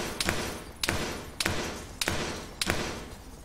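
Several distant gunshots ring out in a military shooter game set on the island of Tanoa, five sharp, evenly spaced reports roughly every 0.6 seconds, each with a thudding tail, with no talk over them.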